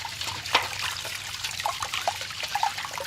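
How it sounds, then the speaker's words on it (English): Clean rainwater trickles and splashes into a bucket in a garden setting, being filled for dissolving soda crystals; a steady, close, fairly quiet dribble with a few brighter splashes. "The next ingredient is the soda crystals, which are going to be dissolved in this bucket of clean water."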